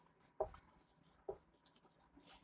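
A pen writes a chemistry definition by hand, with two soft taps and faint scratching strokes close by in a quiet room and no speech.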